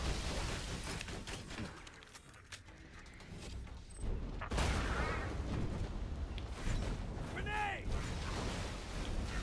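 Nasty Surprise grenades in Borderlands 2 set off a rumbling series of explosions and blasts amid constant game noise, including a sharp loud detonation partway through and some whooshing effects, with talk likely over the top.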